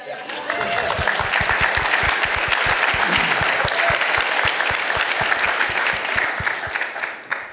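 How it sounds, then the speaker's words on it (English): An audience at a Rotary club meeting breaks into strong applause, many hands clapping together with a few louder claps close to the microphone, swelling in and fading near the end. "Let's give her a round of applause."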